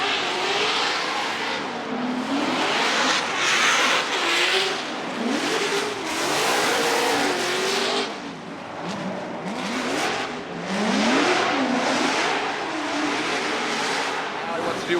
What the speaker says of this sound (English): Let's listen to the Falcon Tires Drift Cave Corvette of Matt Field with his solo bye run.